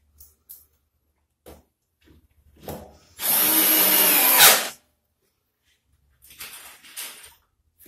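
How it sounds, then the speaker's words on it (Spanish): A power drill drives screws into a melamine cabinet in a single loud whir of about a second and a half, framed by quieter knocks and handling noises from close by. "podemos ingresar facilito los tornillos que nos faltan"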